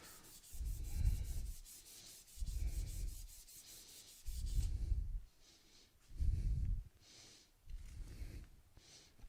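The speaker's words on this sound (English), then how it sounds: "between each grit, I like to sand with the grain" Hand-sanding a turned wooden piece along the grain, heard as five slow, rhythmic rubbing strokes, each a loud close swish separated by short pauses, with no talking.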